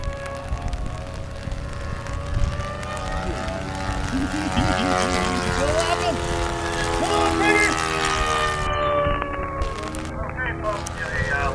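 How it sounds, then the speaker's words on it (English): Model warbird racing airplanes buzz overhead at a model aviation field, a gasoline-powered plane's low droning rumble mixed with an electric-powered plane's high whining squeal, rising and falling in pitch as they pass, with people talking nearby. "a low rumble here is the gasoline-powered airplane, and the one with the high squeal is an electric-powered airplane"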